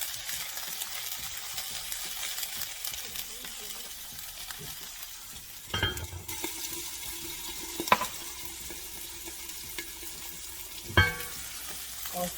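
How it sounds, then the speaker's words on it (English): Soft, steady sizzle of chickpeas frying in a pan with sea moss gel, alongside garlic and ginger, with a few sharp clinks of a utensil against the pan. "In here, I add my chickpeas."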